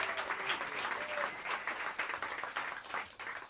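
Audience applause in a small jazz club in New York City as the bassist is introduced before a live set, a dense, steady wash of clapping with some cheering, fairly close and loud throughout.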